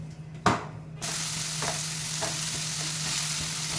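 Onions dropped into hot oil with mustard seeds and cumin, a sharp burst as they hit the pan, then an even, steady sizzle with light stirring scrapes.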